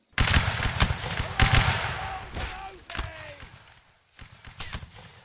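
Musket volley fire at a line battle reenactment: a ragged series of loud, sharp shots crackling close by, one after another, with commands and voices among them and a fading rumble between bursts.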